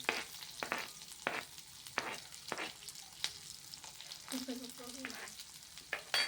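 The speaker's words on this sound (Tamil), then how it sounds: "அனைத்தும் கொஞ்சம் பொன்னிறமாக இப்போ நம்ம வதக்கணும்." Dried red chillies, onion and urad dal sauté gently in a pan for pirandai chutney, with a soft continuous sizzle and repeated light spatula scrapes and taps, fairly quiet and without talking.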